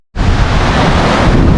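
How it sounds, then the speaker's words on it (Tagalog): Strong wind at Boracay beach buffeting the microphone, a sudden loud, steady roar of broadband rumble and hiss that starts abruptly and holds without letting up, with no voices. "Guys, sobrang lakas ng hangin dito oh."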